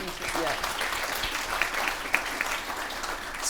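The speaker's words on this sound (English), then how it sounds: "we should just have one long applause for this panel" Audience applause for a panel at a women-in-leadership discussion, with fairly quiet, steady clapping throughout and a few sharper individual claps standing out.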